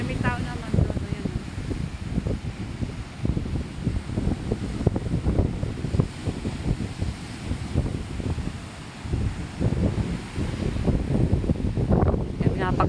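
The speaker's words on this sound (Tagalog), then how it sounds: "lakas ng hangin" Strong, gusty wind buffets the microphone with continuous low rumbling roar, rising and falling throughout, with voices faintly underneath.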